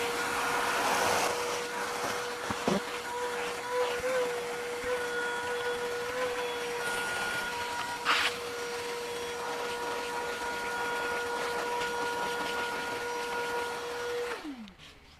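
An EcoMax wet/dry shop vacuum runs with a steady, droning motor whine while sucking dirt, grass, wood chips and sawdust off a floor, then winds down near the end.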